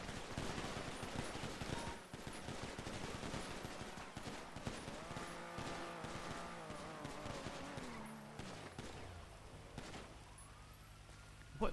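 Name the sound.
gunfire in the video game GTA V NoPixel roleplay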